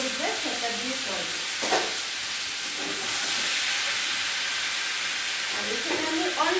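Chopped tomatoes hit hot oil with spluttering mustard seeds in a tomato chutney pan, giving a steady broad sizzle and hiss throughout, with brief stirring scrapes and a voice talking faintly at the start and end.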